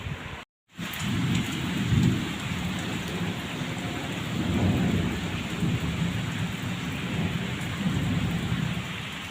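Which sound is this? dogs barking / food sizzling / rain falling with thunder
rain falling with thunder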